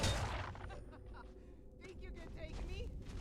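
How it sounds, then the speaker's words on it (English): Explosions and fire in the Skyrim video game, a dense crackling blast-and-gunfire-like rumble that stays loud throughout, with a person talking over it. "Explosions! Fire!"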